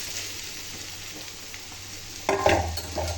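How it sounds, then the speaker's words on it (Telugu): Beetroot and carrot mix dropped into a hot pan, a faint steady background hiss giving way to a louder burst of sizzling and stirring near the end, with no voices. "ఇప్పుడైతే నేను బీట్రూట్ క్యారెట్ మిక్స్ రెండు వేసేస్తున్నా చూడండి"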